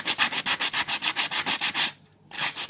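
Sandpaper of 60 grit rasps rapidly back and forth across a plastic Nerf blaster in about fourteen even, close strokes, then pauses briefly before the scrubbing starts again.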